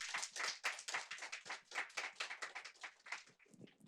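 Audience clapping at the opening of a Global Network of Learning Cities results-sharing event, rhythmic hand claps in quick bursts, fairly close but quiet, fading slightly toward the end.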